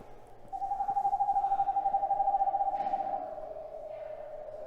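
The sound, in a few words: eastern screech owl call from push-button exhibit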